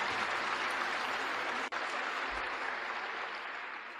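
Audience applause in a large hall at the 2001 Berkshire Hathaway annual meeting, a dense, steady wash of many hands clapping that carries on evenly and fades slightly toward the end, with no talking over it.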